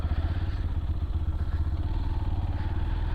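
A Yamaha FZS V3 motorcycle accelerates on a road stretch. The engine drones loud and steady up close with a dense, throbbing low rumble and no talk.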